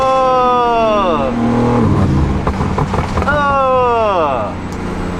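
A car engine revs hard in two bursts, each rising and then falling off in pitch, with rough mechanical roar in between. It sounds close and loud, and excited voices come through.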